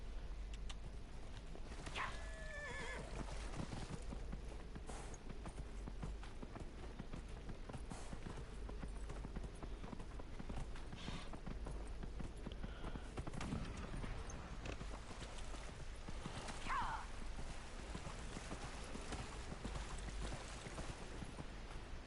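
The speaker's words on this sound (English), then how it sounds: "Call the horse." Quick video game horse hoofbeats clip-clop in a steady rhythm, faint against constant low background noise, with a few brief higher cries scattered through.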